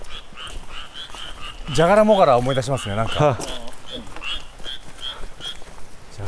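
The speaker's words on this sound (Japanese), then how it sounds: "カエルが。" Frogs croak in a repeated rhythmic series near a stone wall outdoors, steady throughout while people talk over the middle.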